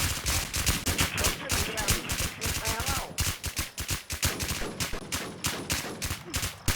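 Video game gunfire aimed at a character named Darin: rapid, loud bursts of automatic shots in close succession over several seconds, with talk mixed in.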